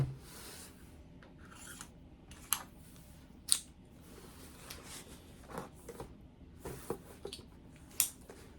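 Crinkly plastic and cardboard rustling and tearing as a NECA Beetlejuice action figure is unboxed, with short sharp rips and crackles scattered over a quiet, close-up background.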